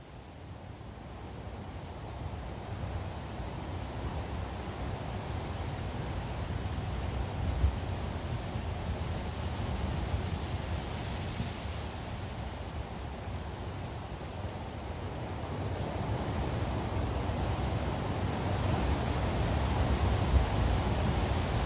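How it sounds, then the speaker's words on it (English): A recording of big ocean waves: a continuous, broad roar of surf that slowly swells louder toward the end, with no distinct breaks and no voices. "The first set that we hear, you'll note here, are labeled big waves 1 and 2."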